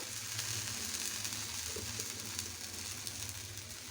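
Bread dosa frying in oil on a pan over a lowered stove flame gives a steady close sizzle that runs evenly throughout, with no voices.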